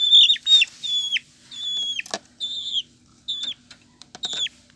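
Black chicks peep in short, clear, high calls as they are weighed, several bursts in quick succession up close with small handling noises between them and no voices.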